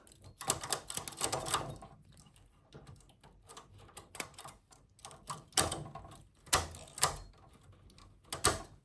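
A knitting machine carriage is pushed across a row while working cables, giving clattering mechanical bursts and rattles separated by short pauses.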